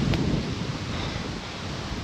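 Gusty wind of a starting storm buffets the microphone outdoors near abandoned Westwall fortifications by Aachen, a loud roaring rush that is strongest at the start and then settles into a steady blustery hiss, with no talk.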